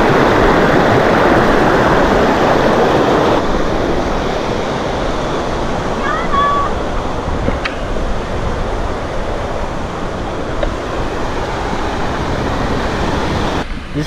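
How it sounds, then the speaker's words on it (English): A steady, loud roar of rushing water from a waterfall in Valle Verzasca, Switzerland, fills the scene continuously and close by, with faint wind buffeting and no talk. "So we just arrived at the waterfall"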